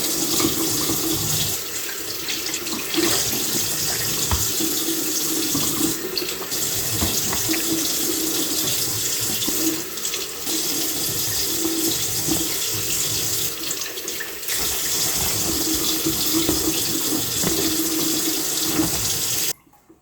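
Tap water runs steadily into a kitchen sink while eggs are rinsed, a loud, continuous splashing rush with small shifts in flow, cutting off abruptly at the very end.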